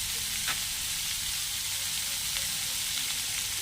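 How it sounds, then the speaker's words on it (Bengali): Whole cumin seeds and panch phoron sizzle in hot oil in a pan beside potato, eggplant and onion for a small-fish chorchori, a steady close, loud frying hiss with no talk. "এবার আমি তেল একটু দিয়ে দিলাম তার মাঝখানে গোটা জিরা আর একটু পাঁচফোড়ন দিয়ে দিলাম"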